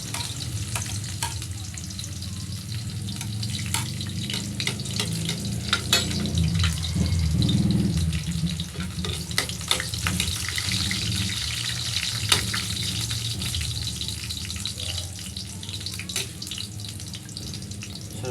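Garlic fries in hot cooking oil in a pan outdoors, a steady close sizzle with occasional pops and utensil clinks throughout.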